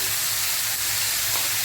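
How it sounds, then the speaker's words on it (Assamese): Chicken pieces sizzle as they are stirred and fried in a pan for an Assamese chicken dish, producing a steady, close hiss of frying with no talking. "চিকেনখিনিৰ সৈতে ধুনীয়াকৈ এবাৰ মই লৰাই দিছোঁ। লৰাই দি ভালকৈ ভাজি ল'ম।"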